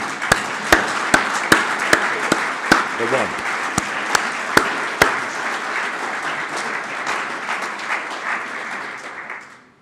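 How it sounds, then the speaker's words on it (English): Sustained applause from a conference audience, a dense wash of many hands with sharp close claps punctuating the first half, then tapering off gradually toward the end. "I think we should give them a very good round of applause"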